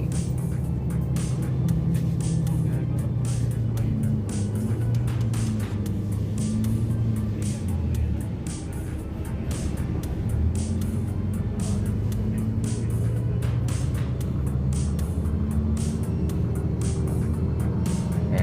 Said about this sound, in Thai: นั่งรถเมย์นะครับวันนี้